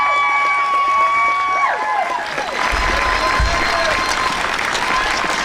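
A large outdoor crowd at a March for Our Lives rally breaks into loud, sustained applause and clapping. A fading voice with a sung or held tone sounds at the start before the clapping takes over.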